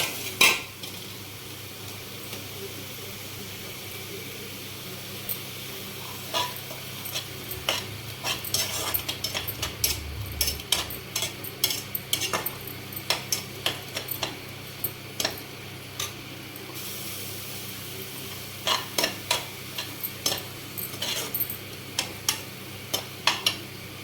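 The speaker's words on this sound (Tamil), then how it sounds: "பேஸ்ட்டை கொஞ்சம் நல்லா வதக்கணும்." Curry paste and a handful of curry leaves sautéing in a pan, a steady soft sizzle broken by frequent clicks and scrapes of a spatula stirring against the metal, with no voices.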